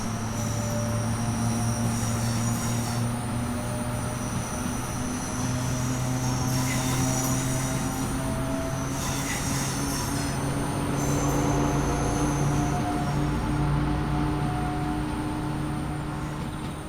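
A long Class 390 Pendolino electric train in Train Sim World hums steadily on the West Coast Main Line, its motor whine holding sustained tones over a constant rumble of wheels on rails, with occasional faint squeals.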